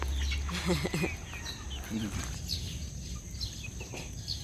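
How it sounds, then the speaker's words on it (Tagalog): Young roosters and chickens of a native Filipino free-range flock cluck and call near and far outdoors, with someone talking in Tagalog over them and a low rumble at the start. "tsaka sila Kidlat, si Tarang, kung malalaki na, mga tandang na. Ito, magiging tandang na rin yan"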